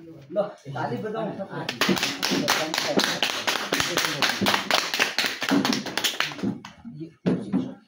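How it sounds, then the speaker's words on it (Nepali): A crowd at a holy water opening ceremony claps in a lively, sustained round of applause lasting several seconds, with a voice speaking just before the clapping starts and again after it fades. "ल ताली बजाउँ।"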